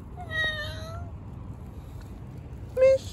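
A kitten on the street gives two distinct meows, a drawn-out one near the start and a short, sharp one near the end, with faint street background between.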